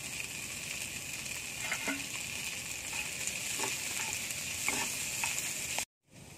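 Beans and carrots with salt fry in a pan for restaurant-style chicken fried rice, a continuous gentle sizzle with a few light spatula clicks, close and quiet, cutting off abruptly near the end.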